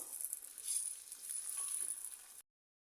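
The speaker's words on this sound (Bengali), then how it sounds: "হলুদ গুঁড়া দিয়ে দিব হাফ চা চামচ মিহি করে মিশিয়ে নেব" Olive pickle mixed with turmeric powder in a frying pan, a soft steady sizzle with light stirring scrapes, fairly quiet and close, ending abruptly in silence.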